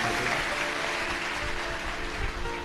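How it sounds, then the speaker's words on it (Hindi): Steady crowd applause at a live Shiv Mahapuran katha gathering, a dense continuous wash of clapping that holds evenly for the whole stretch without pause. "एक बार जोरदार ताली बजाकर संतों के लिए"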